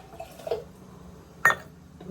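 Bowlfuls of water poured into a cooking pot for khichdi, heard as two short, quiet splashes about a second apart in an otherwise calm kitchen.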